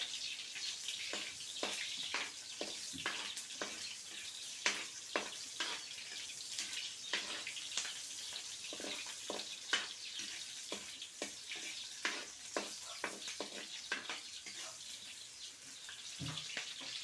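Hot cooking oil frying in a pan for garlic fried rice, a faint continuous sizzle broken by frequent sharp pops and crackles throughout.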